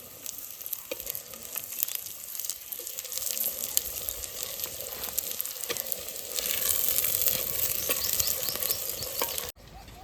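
Tomatoes going into a hot pan of sizzling gunda shaak (lasoda flower sabzi) in a village kitchen, a steady close frying hiss with stirring scrapes that swells louder partway through and cuts off abruptly near the end.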